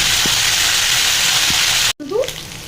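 Small fish frying in hot oil, a loud dense hiss that cuts off abruptly near the end and gives way to quieter bubbling and a short voice.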